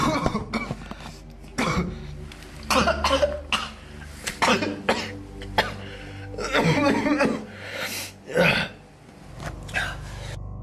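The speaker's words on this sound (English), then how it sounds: "he suffers a sudden coughing fit and falls to his knees" A man coughs repeatedly in a harsh, rasping fit, with throat clearing and strained breaths between the bursts, close and loud.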